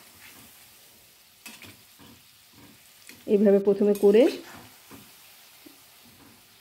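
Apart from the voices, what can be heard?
palm fruit fritters (tal bada) frying in oil on low heat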